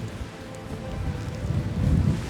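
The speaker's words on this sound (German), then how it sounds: "Junge, was ist das für ein Wind?" Strong wind buffets the microphone outdoors on an Irish shore during a pike fishing trip, a continuous roaring rumble that swells louder toward the end, with no voices.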